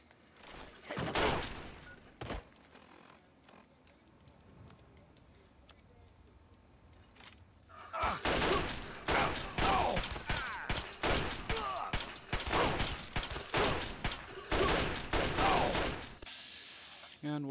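Bursts of gunfire in Fallout 3, a couple of shots early on, then a long, dense stretch of rapid, overlapping shots near and loud. No one talks.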